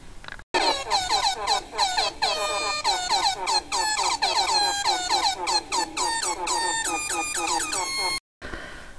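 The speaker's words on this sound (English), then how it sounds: "if I have a chance to make an air horn meme, chances are I will" Repeated air horn blasts in a stuttering meme sound effect, loud and dense, layered honks with shifting pitch running nearly continuously before cutting out abruptly.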